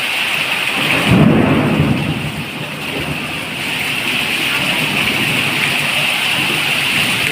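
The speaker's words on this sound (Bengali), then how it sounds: "কি পরিমাণ ঝড়, বীজ চমকাইতেছে প্রচুর পরিমাণ" A thunderstorm with heavy rain falling steadily throughout, a deep rumble of thunder swelling early on and then fading back under the constant hiss of the downpour.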